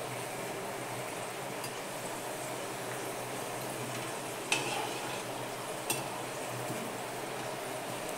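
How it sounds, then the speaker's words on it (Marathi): Small samosas fry in a shallow layer of oil with a steady, soft sizzle, and occasional faint clicks come as they are stirred in the pan. "समोसे जरा चांगले लाल होईपर्यंत तळायला लागतात, पण जरा हलवून तळायचे."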